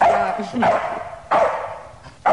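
A poodle barks close by, two sharp barks with a short gap between them, and a brief voice is heard alongside them.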